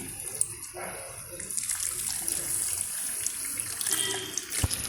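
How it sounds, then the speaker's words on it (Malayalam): Liquid pours steadily into a pan, a continuous close splashing rush with a brief clink near the end. "ഈ ചിക്കൻ്റെ നീരൊഴിച്ച് കൊടുക്കാം"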